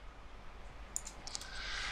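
Keyboard Shift key and mouse clicks during 3D modeling work at a computer: a few faint, crisp clicks in a quick cluster over a low background hiss, with no talking.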